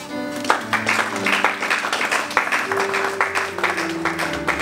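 A church congregation at a Sunday service applauding to acclaim the Lord, dense sustained clapping close by with a few voices mixed in beneath it.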